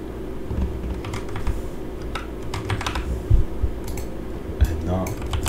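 Typing on a computer keyboard, a run of quick, close clicks and clacks in an uneven rhythm, with a few louder key strikes standing out over a faint steady hum.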